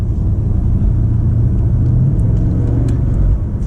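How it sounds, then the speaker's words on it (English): A BMW M5 Competition LCI exhaust in Sport Plus mode, heard from inside the cabin while driving, as a loud, steady, deep rumble that continues throughout without pause. "the exhaust got louder in the Sport Plus setting that we're driving now"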